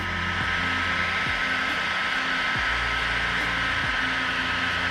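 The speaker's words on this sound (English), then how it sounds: "Now with a heat gun set to 100, and I'll start with 105." A digital heat gun set around 100–105 degrees blows hot air steadily while heating pre-impregnated Oratex fabric over a repaired wing rib on a Legal Eagle aircraft, a continuous airy whoosh with a low hum and occasional soft clicks.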